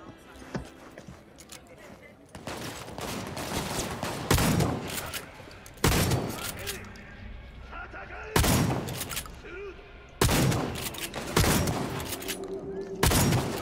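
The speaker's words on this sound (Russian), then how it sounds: "Херовый дробовик очень сильный." Shotgun blasts in Cyberpunk 2077: several loud, booming shots spaced a couple of seconds apart, each with a short echoing tail, over background game noise with a voice talking.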